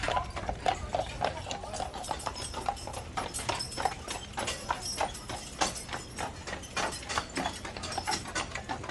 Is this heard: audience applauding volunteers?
no